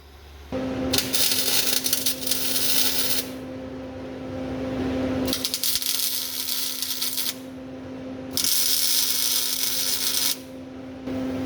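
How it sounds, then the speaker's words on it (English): Welding on a transmission crossmember for a 1940 Chevy coupe: three long crackling bursts of arc noise, each several seconds, separated by pauses over a steady electrical hum. "Let me drag the welder out and we'll go to welding."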